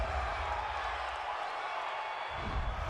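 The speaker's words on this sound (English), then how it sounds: "this crowd does not like that call" A stadium crowd at an NFL game between the Minnesota Vikings and Detroit Lions rumbles steadily in a broad, distant roar of disapproval after a roughing-the-passer penalty, with no clear voices standing out.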